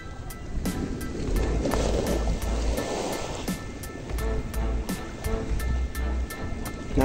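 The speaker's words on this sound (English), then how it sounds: "Here there is the very big wave." Ocean waves at a Philippines beach resort roll in with a continuous broad wash of surf, swelling and receding, mixed with wind rumble on the microphone.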